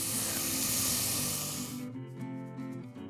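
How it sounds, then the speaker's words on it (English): A salted mixture sizzles loudly in a pan on a medium flame while cooking a soya nugget pulao. The hiss stays steady and strong for about two seconds, then drops to a quieter, fluttering sizzle. "give it a mix and cook this mixture on medium flame for 3 minutes."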